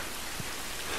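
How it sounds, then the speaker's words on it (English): Steady rain pours in The Last of Us Remastered, a dense, even hiss of falling water that fills the clip without pause, with no voices over it. "Well, at least we're out of the rain."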